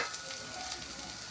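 Ginger-garlic paste, beans and carrots fry in a pan for brinji rice, a soft, steady sizzle close by with no talking.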